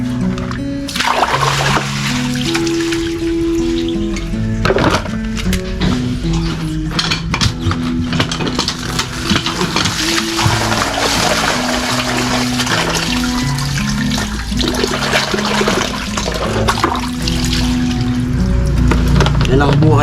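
Tomatoes and eggplant are washed in a basin of water, with steady splashing, sloshing and occasional clinks running throughout, loud and close, alongside background music.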